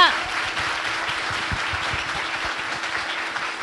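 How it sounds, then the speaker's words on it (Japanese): An audience applauds at the close of a talk show, a steady wash of clapping with voices audible beneath it. "岡野さんに、えー、拍手で、えー、おお願いいたします"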